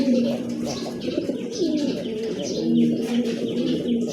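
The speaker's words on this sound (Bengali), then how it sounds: "খুবই চমৎকার একজোড়া কবুতর" A pair of pigeons coos steadily and close by, their low rolling calls overlapping and repeating throughout against a faint background hum.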